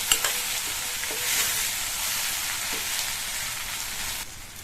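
Brinjal and tomato masala being stirred and sautéed in a pan: a steady, close sizzle with soft spoon scrapes and small clicks against the pan, no speech.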